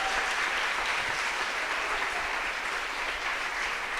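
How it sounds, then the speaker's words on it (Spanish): A church congregation applauds during a Spanish-language service, a sustained dense wash of many hands clapping at steady volume throughout, with no voices standing out. "Bríndale un aplauso en esta mañana, agradécele, dale un aplauso a Él"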